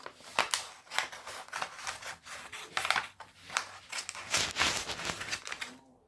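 Scissors snipping around a sticker on a learning table, a run of quick close cuts with crinkling paper and rustling between snips, fairly soft.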